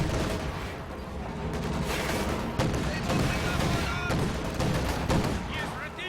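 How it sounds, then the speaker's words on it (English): Gunfire, flak and artillery in the real-time strategy game Company of Heroes 2 crackle and boom in a busy, continuous battle mix, with a caster talking over the action. "Oh, flak panzers carving up all these squads. Taking enemy fire."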